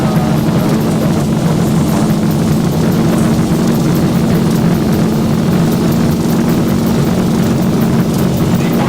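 Boeing 737 engines at takeoff thrust in the X-Plane 12 Zibo mod give a loud, steady, unbroken roar with a sustained low hum and broadband rush from start to finish.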